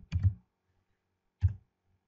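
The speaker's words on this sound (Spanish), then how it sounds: "y haciendo doble clic entraremos sobre lo que sería el bloque de función" A computer mouse clicking twice, the two short, quiet clicks heard close up about a second apart against near silence, with no one talking.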